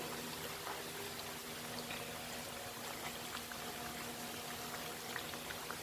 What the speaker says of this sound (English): let's continue frying our akara